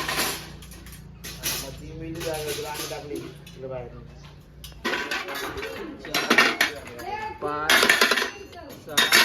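Metal cooking pots and utensils clank and clatter in bursts while several people talk nearby, some voices sounding young, during preparations for a Sai temple anniversary celebration.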